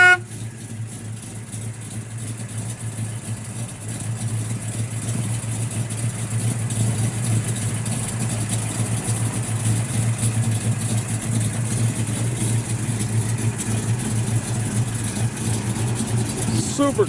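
A 1969 Chevrolet Camaro SS big block with an aluminum intake, headers and dual exhaust idles close by with a steady low rumble that grows slightly louder after a few seconds and holds evenly.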